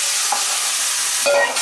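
Spice paste with deghi mirch going into a hot pan for shahi soya chaap, a loud dense close sizzle that carries on throughout, with a couple of brief utensil scrapes.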